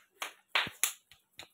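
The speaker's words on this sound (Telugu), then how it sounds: "క్లాప్స్ కొట్టండి చందన్కి" Young children in an anganwadi classroom give a few quiet, scattered claps, about five sharp, separate slaps spread unevenly over a moment of near silence.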